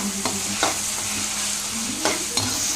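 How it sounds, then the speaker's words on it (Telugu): Ginger garlic paste frying in a pan for fried rice, a close steady sizzle broken by a few sharp scrapes of a spoon stirring against the pan, no voices. "అల్లము, తెల్లగడ్డ పేస్ట్ అయితే వేసుకుందాం. ఇదైతే పచ్చివాసన పోయే వరకు బాగా కలిపెట్టుకుందాం."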